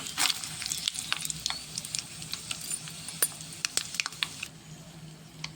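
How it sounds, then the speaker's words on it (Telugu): Dried red chillies, chana dal, cumin, mustard seeds and curry leaves sizzle in hot oil for a tempering, a continuous close patter of crackles and sharp pops. "దీంట్లో పోపు పెట్టుకున్నాం."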